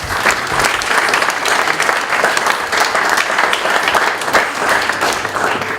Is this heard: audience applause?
yes